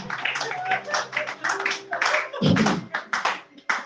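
A church congregation claps in a quick, uneven rhythm while voices shout praise to Jesus over the applause, nearby and fairly loud.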